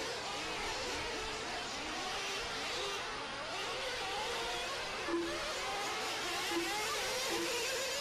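Nitro RC buggies in a 40+ class A-main race buzz around a dirt track, a steady mid-level engine drone with whining passes rising and fading, no talk during the clip.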